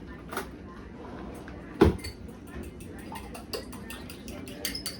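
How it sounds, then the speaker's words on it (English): An egg being beaten in a bowl-bottomed cup, a run of quick, light ticking taps of the utensil against the cup that speeds up toward the end, with one heavier knock. "I should beat this egg"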